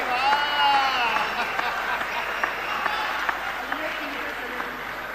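Audience applause at a Hindi poetry recital, steady crowd clapping held for several seconds with a few voices and cheers mixed in, even in loudness throughout.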